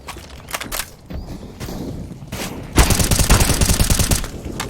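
Gunfire in a tactical shooter video game: scattered shots and faint in-game sounds give way to a loud sustained burst of rapid automatic fire in the second half.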